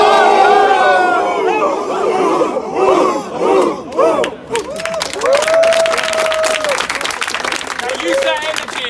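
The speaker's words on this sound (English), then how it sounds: "You all shout Spartans" A crowd of men roars the battle cry "Spartans" in unison, several loud collective shouts with ragged cheering and chatter between them.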